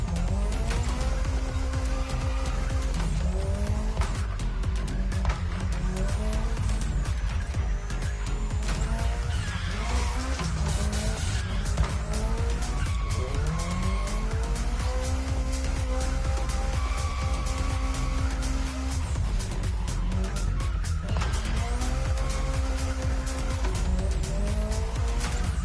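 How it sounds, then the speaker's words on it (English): A racing car in a video game brakes hard with tire squeal, engine tones rising and falling continuously with repeated screeching skids, loud and dense throughout. "And then hard braking and restart."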